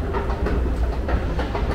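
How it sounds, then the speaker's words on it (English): An Amsterdam Metro train rumbles steadily in a station, a low continuous rolling sound with faint rhythmic clicks, fairly quiet. "Look at this, a train."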